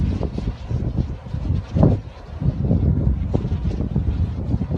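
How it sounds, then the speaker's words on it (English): Wind turbines at the Atherton Tablelands wind farm in Queensland give a steady, broad whooshing roar mixed with gusting wind buffeting the microphone, with a brief louder swell partway through and no voices. "What you can hear me are these gigantic creatures. It's the Atherton Tablelands wind farm."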